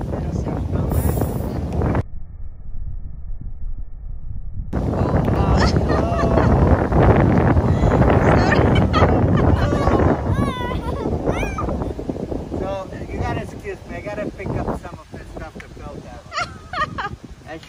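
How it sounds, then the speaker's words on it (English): Strong outdoor wind buffets the microphone in heavy, rumbling gusts, with a brief cut-out near the start and voices talking through much of it. "It's very windy."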